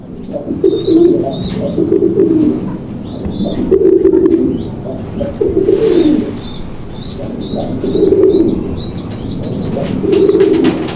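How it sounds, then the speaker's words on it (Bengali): A male pigeon coos loudly and close, repeating rolling calls at a steady rhythm, with bird chirps mixed in over a busy background. "দর্শক বন্ধুরা দেখতে পাচ্ছেন নরের ডাক, দেখছেন একদম ভরপুর, পাগলা।"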